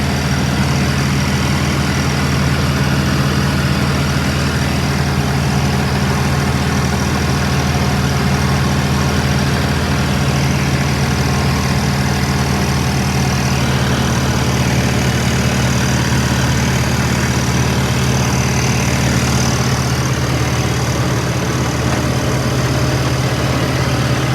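A modified tractor idling close by: a loud, steady low engine rumble with a constant drone and no change in pace across the whole stretch.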